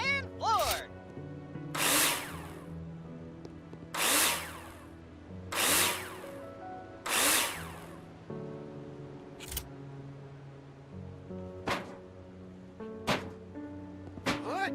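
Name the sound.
drill screwing in profiles, from video game Builder Simulator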